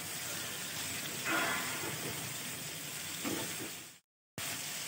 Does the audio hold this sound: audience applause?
no